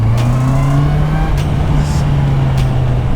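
A motorcycle engine revving on a ride, a loud steady tone that rises and falls slightly across the whole stretch, close to the rider, with wind noise.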